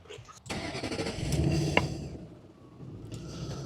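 A 2006 Ford Mustang engine cranks and catches, rising into a steady medium-pitched running rumble that eases back toward idle, heard close by without talk.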